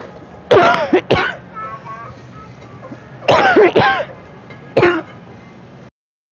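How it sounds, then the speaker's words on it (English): Someone coughs and clears their throat in three separate bursts, loud and close, with short quiet pauses between them. "I keep coughing."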